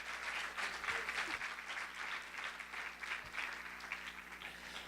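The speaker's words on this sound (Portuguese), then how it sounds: "Dê uma salva de palmas, meus queridos." Applause from a church congregation during a sermon, a steady dense patter of many hands clapping throughout, fairly loud and sustained with no talk over it.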